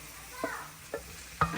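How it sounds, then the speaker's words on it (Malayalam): Onions and tomato sautéing in a pan give a soft, fairly quiet sizzle with three distinct stirring scrapes about half a second apart. "ഇനി ഇത് ചെറുതായിട്ടൊന്ന് വഴണ്ട് വരട്ടെ."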